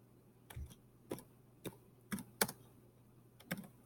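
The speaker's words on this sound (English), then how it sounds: "I'm a painfully slow typer" Slow, sparse key taps on a computer keyboard, spaced irregularly and sounding faint and close in a quiet room. No one speaks.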